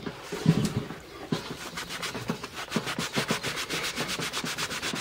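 A parts pad is scrubbed clean with carb cleaner: brisk back-and-forth rubbing strokes, close and quick, speeding into a fast steady rhythm after a couple of slower scrapes.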